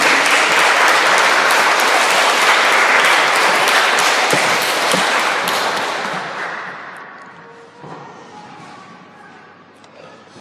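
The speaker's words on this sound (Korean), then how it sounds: "목사님 나오시면 박수로 환영해 주시면 감사하겠습니다" A church congregation bursts into loud, dense applause to welcome a pastor at a Sunday service in Paris, holding steady for several seconds before thinning out and tapering off.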